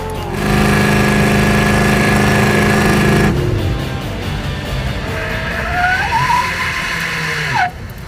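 A Pontiac Firebird on a road course locks up a tire, a loud sustained engine roar and skidding drone that drops in intensity partway, followed by wavering squeal-like tones and a brief sharp screech near the end.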